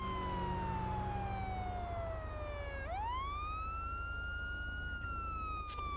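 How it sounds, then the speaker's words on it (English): A loud police car siren in Grand Theft Auto V wails steadily, falling in pitch and then rising again, over a constant low engine rumble. "Man, I wish I could turn this siren off."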